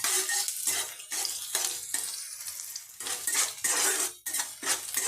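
Onion, garlic and chilli fry in a pan under a steady sizzle as a metal spoon scrapes and stirs in repeated, rhythmic strokes, close and clear, with no voices.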